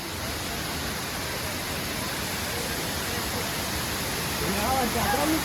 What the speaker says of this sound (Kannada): ಬಂತು ಜೆರಿ ಫಾಲ್ಸ್ ಬಂತು